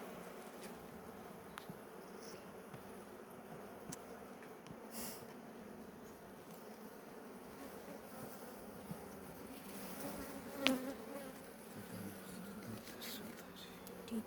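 Honey bees buzzing faintly around a hive frame being set up, a low steady drone with occasional closer passes and small handling knocks.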